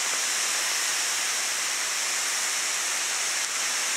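Water sprays in a steady, hissing rush while an outdoor ice rink is being flooded, a continuous close wash of noise with no other sounds over it.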